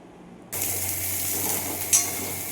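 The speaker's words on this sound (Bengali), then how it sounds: "তো মশলাটা কষে নিচ্ছি এটাতে একটু দিয়েছি আদা বাটা আর জিরে ইয়ে জিরে বলছি ধনে আর রসুন দিয়েছি" A spice paste of ginger paste, cumin, coriander and garlic bursts into a loud, steady sizzle as it hits hot oil in the pan, with a brief metallic clink partway through; no voices.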